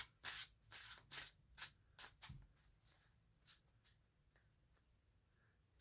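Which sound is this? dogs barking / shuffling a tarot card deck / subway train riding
shuffling a tarot card deck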